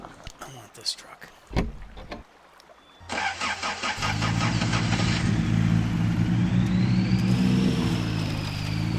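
A truck engine cranks and fires up in the off-road driving game Mudrunner, then settles into a loud, steady idle. A voice talks before it starts.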